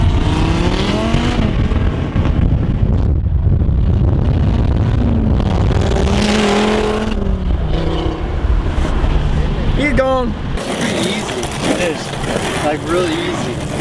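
Ferrari LaFerrari supercars pulling away from a street, engines revving and accelerating, loud and close at first with rising pitch sweeps, over steady wind noise and occasional voices nearby.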